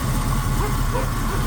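A 1979 Chevy wrecker truck engine runs steadily at a low rumbling idle, close and continuous, with a person talking over it.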